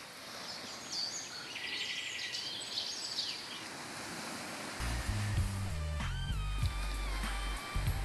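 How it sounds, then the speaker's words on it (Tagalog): Strong ocean waves wash steadily against a rocky seaside shore, a continuous roar of surf with a few faint bird calls and a burst of noise partway through. "Malakas po ang alon."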